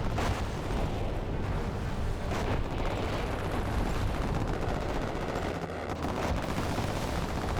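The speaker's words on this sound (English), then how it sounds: "And Bruce is on the assault with his Inferno cannons." Inferno cannon artillery pounds away in the Command and Conquer Generals battle, a dense, continuous barrage of booming shots and explosions that fills every moment with loud, rumbling gunfire.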